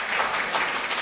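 Sustained audience applause fills a conference hall at a UNWTO Commission for Europe side event, a dense, steady wash of many hands clapping with no voices over it.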